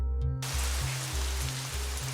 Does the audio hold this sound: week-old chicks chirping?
no